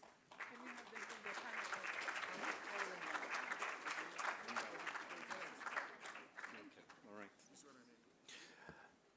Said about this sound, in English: a hearty round of applause as each of our panelists receive their gifts